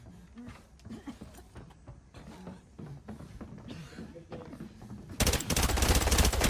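Rapid automatic gunfire suddenly erupts and continues loud and dense in the video game Arena Breakout, after a stretch of quieter in-game movement sounds.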